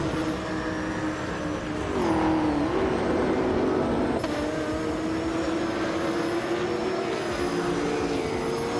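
Engines of race cars drone and whine together during a race, a continuous loud roar with one car's pitch sweeping up and down as it overtakes, no talking.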